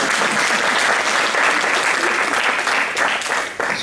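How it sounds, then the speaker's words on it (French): An audience applauds the actress Audrey Garcia as she is introduced at an acting class show, a thick, steady wash of clapping that stays loud and close, then thins slightly at the very end. "Vous pouvez l'applaudir."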